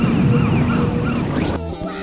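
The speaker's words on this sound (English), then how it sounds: "this siren sound that sounds exactly like the one in Bomberman Fantasy" A wavering siren effect from the video game Twisted Metal wails continuously for about a second and a half over a busy game soundscape, then cuts off abruptly.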